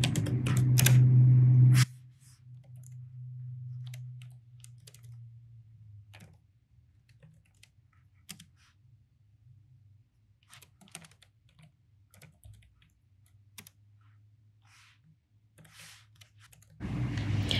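Keys click in quick, irregular bursts as a SQL query is typed on a computer keyboard. The typing is fairly quiet and sits under a low background hum, between louder noise at the start and end.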